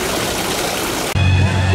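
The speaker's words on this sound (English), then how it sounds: "I absolutely adore the fountain they have here, in which beer taps make kind of a waterfall." A fountain with beer taps pouring into a waterfall at a beach bar makes a steady, close rush of splashing water, then the sound changes abruptly to a lower, fuller gush.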